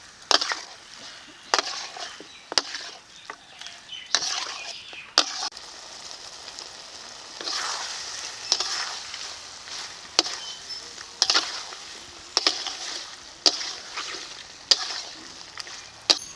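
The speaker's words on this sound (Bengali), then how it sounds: "মশলার সঙ্গে মাংসটাকে ভালো করে কষিয়ে নেব" Duck meat being sautéed with spices in a pan, a steady low sizzle broken by repeated sharp scraping and stirring knocks of a spatula at an irregular pace, close by.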